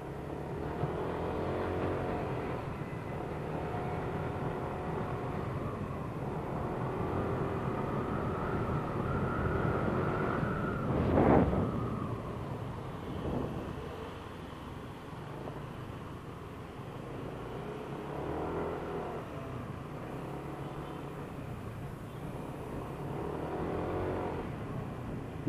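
A Yamaha NMAX scooter's engine hums steadily while it is ridden, with a continuous mid-low drone that rises briefly in a short surge partway through and wind noise throughout.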